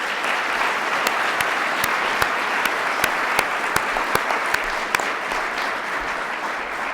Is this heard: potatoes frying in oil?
no